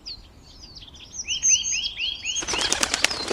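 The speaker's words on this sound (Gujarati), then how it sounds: "ચકલીબેને વિલંબ કર્યા વિના તરત જ પોપટભાઈના ઘરે ઉડાન ભરી" A small bird, a sparrow, chirps in a string of quick rising tweets, then its wings burst into loud rapid flapping as it takes off, all close and clear with no talk.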